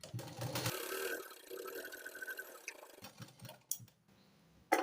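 A sewing machine runs a double line of stitching: a few seconds of close mechanical whirring, then it stops, leaving scattered clicks and handling knocks.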